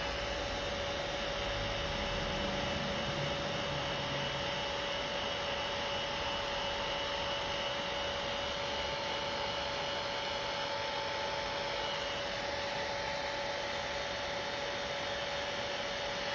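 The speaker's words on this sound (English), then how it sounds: "If you use the hair dryer and blow dry, it speeds up the time." Hair dryer blowing steadily to dry freshly applied lacquer nail polish, a continuous whooshing airflow with a fixed motor whine, close and fairly loud, running unchanged throughout with no talking.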